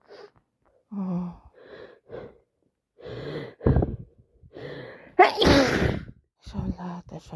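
A person with a heavy cold sneezes twice, each a loud wet explosive burst, with gasping breaths, sighs and sniffles around them.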